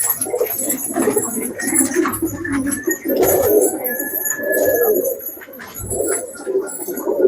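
Pigeons coo in low, repeated throaty phrases, several birds close by, with occasional chirps and rustles between calls and no talk.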